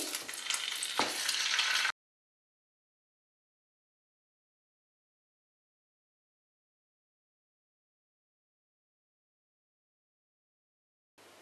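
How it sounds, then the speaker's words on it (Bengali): Chicken pieces frying in hot oil in a pan for Bangladeshi shahi morog polao, a loud crackling sizzle for about two seconds before cutting to silence. "তেলটা গরম হয়ে গেছে আমি চিকেনগুলো দিয়ে দিচ্ছি"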